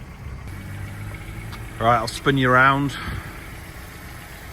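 A cheap auction-bought car idles with a low steady engine hum close by, while someone speaks briefly over it.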